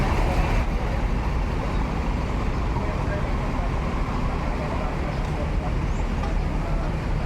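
Bus engines idling and rumbling at a bus terminal as a fleet of intercity buses prepares to depart, a steady dense low roar filling the whole clip with no clear break.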